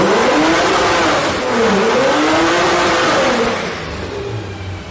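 Supercharged car engine revving and holding boost, a loud continuous drone with slowly rising and falling pitch that eases off slightly toward the end, recorded close with no talking.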